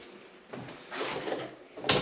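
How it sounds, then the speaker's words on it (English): A door in a small honey extraction room bumps and slides shut, with a few scraping, rattling movements ending in a firm close, near and fairly loud. "I'm going to close that door."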